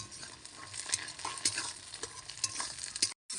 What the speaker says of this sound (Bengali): আমি এর মধ্যে মটরশুঁটিটা দিয়ে দেবো।